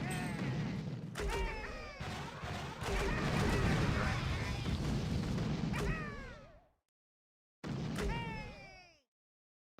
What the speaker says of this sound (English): I've died from the rocket launcher.